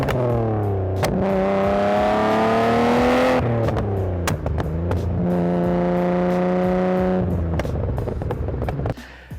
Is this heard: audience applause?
no